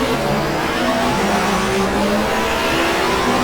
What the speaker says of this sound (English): Away we go, a bit of wheel spin.